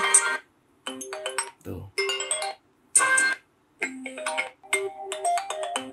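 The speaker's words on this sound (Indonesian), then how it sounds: "ini adalah ringtone baru yang ditambahkan sama Apple di iOS 26 Beta 6" A bright electronic ringtone melody of short chiming tones, played in repeating phrases with brief gaps, close and clear, with a short spoken syllable among them.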